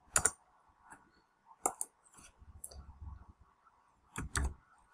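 Computer keyboard keys click sparsely and close by while a replacement word is typed into a find-and-change field in Adobe InDesign, with a few quiet gaps between keystrokes.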